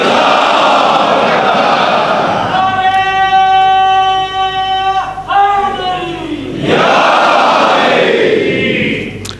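A large mosque gathering at a Muharram majlis in Kanodar, Gujarat, chanting the religious slogan Nara-e-Haidari, Ya Ali: a loud, sustained collective shout of many voices, with a lead voice rising and swelling into the crowd's response.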